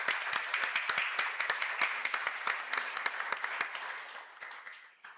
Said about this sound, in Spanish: un aplauso para todas las personas que están aquí hoy con nosotros